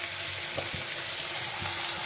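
Chicken pakora fries in hot oil in a small kadai on a gas stove, a soft steady sizzle with a few light bubbling pops and faint clinks, fairly quiet and without talk.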